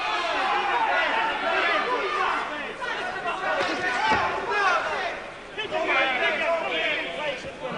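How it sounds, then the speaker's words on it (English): Boxing arena crowd at a 1994 title fight booing the referee, a loud, continuous wash of jeers and chatter rising and falling across the whole stretch with no clear individual words. "is they're booing the referee, not Hamed."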